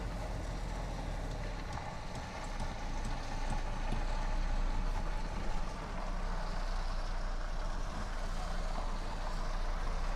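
An HGV truck pulling a trailer jackknifes on a narrow country road, heard as a steady low diesel engine rumble from inside the cab, fairly faint and continuous with slight swells in intensity.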